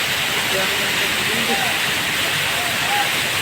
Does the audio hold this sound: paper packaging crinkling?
no